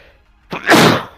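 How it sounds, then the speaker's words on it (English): A single loud, breathy sneeze bursts out close to the microphone after a brief quiet intake. "Big sneeze."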